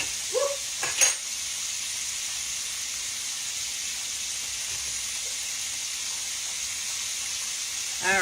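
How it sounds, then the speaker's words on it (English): Oil sizzles steadily as chicken fingers fry in a one-gallon fryer, a constant bright hiss broken only by brief voices at the start and end. "chicken is frying at a good little speed right there."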